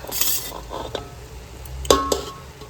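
Cooked rice being spooned as a second layer over prawns in a biryani pot, with a few clinks of a metal spoon against the pan and soft scraping, close and fairly quiet.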